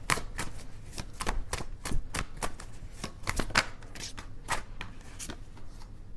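Tarot cards shuffled by hand in a steady run of crisp riffling flicks and slaps, close and fairly loud, with no talking.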